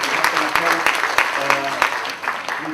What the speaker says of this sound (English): Please, one more round of applause for speakers.